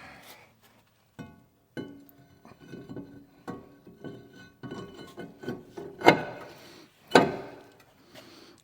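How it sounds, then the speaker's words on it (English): A new brake rotor is fitted onto the hub of a 2013–2019 Ford Escape, producing scattered metallic clinks, scrapes and knocks close up, with two sharper clanks near the end. "we're going to go ahead and throw the new rotor back on."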